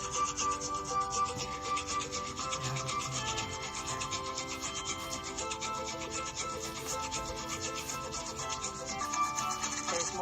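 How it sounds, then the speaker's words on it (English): Toothbrush scrubbing teeth in steady, fast up-and-down and side-to-side strokes, a continuous close rubbing texture that runs the whole time over a tonal background. "Brushing the left, go up and down and side to side."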